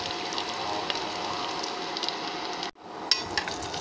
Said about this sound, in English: Now the oil is hot enough, so the mustard has started to splatter.